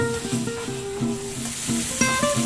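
Onion and pineapple sizzling in a frying pan for sweet and sour tilapia, a steady close hiss with light stirring scrapes, over faint background music.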